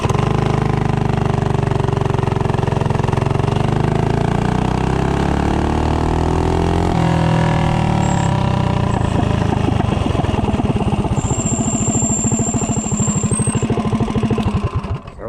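Small single-cylinder engine fitted with a stock Mikuni VM22 carburetor and stock intake accelerates hard from standstill to 30, its loud, rapid exhaust pulsing and rising in pitch throughout, close to the listener.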